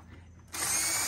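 A power drill whirs up sharply and runs steadily, backing out Phillips screws from a screen door handle after a quiet moment; close and fairly loud, with no talking.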